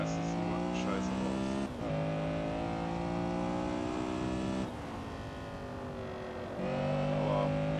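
A Honda Civic SiR-II EG6 drives a time-attack lap at Hope Track in Assetto Corsa, its engine holding a loud, steady high-revving drone with brief dips between gear changes.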